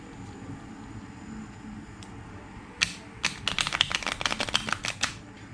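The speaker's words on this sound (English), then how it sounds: "Just take half of the deck and then just lay the cards down one by one" Playing cards are dealt from half a deck and laid down one by one, making a quick run of crisp flicks and slaps after a quiet start, close and clear with no talk.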